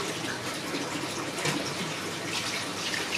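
Liquid is poured into a cooking pot while making mud crab laksa with seafood, a steady close splashing gush with slight shifts in intensity and no talking.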